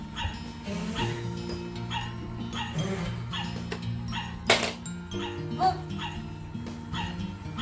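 A puppy yips, barks softly and whimpers repeatedly at close range, with people talking in the background.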